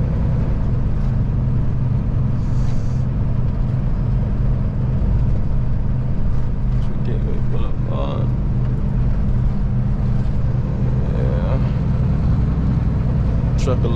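A Marten Transport semi truck's engine rumbles steadily while the truck drives, a loud, constant low drone with road noise throughout.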